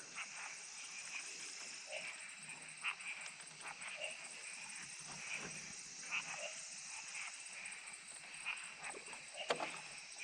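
A dog barks repeatedly in a forest, faint and somewhat distant, with scattered short barks over a constant insect-like background hiss.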